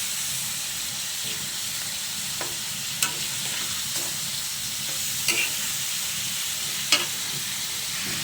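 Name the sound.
potatoes added to chicken adobo, frying in a pan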